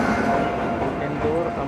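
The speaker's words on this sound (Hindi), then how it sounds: "ये रही हमारी ट्रेन के साथ पहली क्रॉसिंग" The Indore–Amritsar Express rushes past on the adjacent track, heard from inside a moving Indian train as a loud, dense, continuous rumble and roar throughout.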